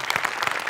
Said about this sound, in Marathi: त्यामुळे दत्तूसाठी एकदा जोरदार टाळ्या.